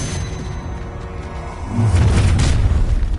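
A Confringo spell explosion in Hogwarts Legacy combat, heard as a sudden loud, deep boom that swells about halfway through and rumbles on to the end, preceded by a whooshing rush.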